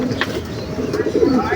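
Pigeons at a home coop coo in low, throaty calls at moderate distance over steady background noise, with a few brief chirps mixed in.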